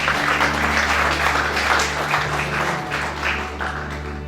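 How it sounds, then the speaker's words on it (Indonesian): Church congregation applauding during a sermon: a steady wash of clapping from many hands, lasting about four seconds over a sustained low hum and tonal background. "Yang setuju tepuk tangan bagi Allah."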